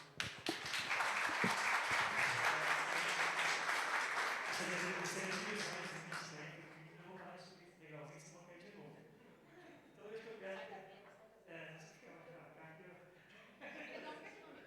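An audience at a cycle tourism talk bursts into loud applause that swells, holds, then fades after several seconds as speech takes over and continues over scattered claps.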